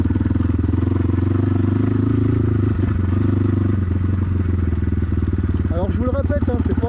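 A new BTC T18 motorcycle rides along with a steady, throbbing single-engine drone that stays loud throughout, and someone talks over it near the end.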